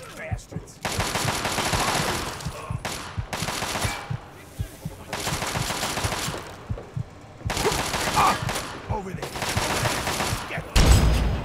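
Bursts of automatic gunfire from Fallout 3's Operation: Anchorage combat, loud and rapid, arriving in several sustained volleys separated by short pauses.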